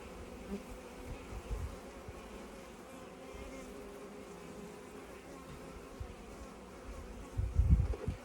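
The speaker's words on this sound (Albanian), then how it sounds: "Kështu që imagjino sa miza do dalë këtu" Honeybees buzz softly around a hive frame of capped brood, a faint continuous drone close by, with a dull bump of handling near the end.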